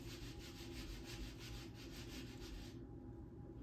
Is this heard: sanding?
yes